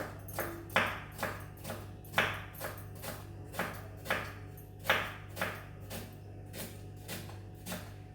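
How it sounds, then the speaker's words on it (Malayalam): A knife thinly slices onions on a board, about a dozen quiet, evenly spaced cuts in a steady rhythm over a low kitchen hum. "വളരെ കനം കുറച്ചിട്ടാണ് ഇത് അരിയേണ്ടത് കേട്ടോ."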